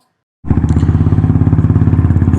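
A Royal Enfield Thunderbird 350 motorcycle engine fires up abruptly after silence and settles into a loud, close, evenly pulsing single-cylinder thump.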